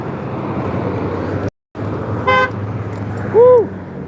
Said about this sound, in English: I don't know if that honk was intended for me.